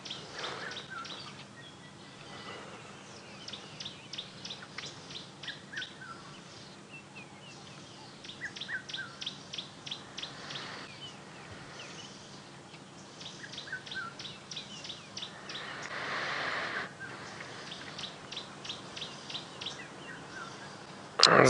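An orange-breasted bushshrike and a distant red-chested cuckoo call at dawn in African bush, with repeated whistled phrases over a steady hum of insects and other birds.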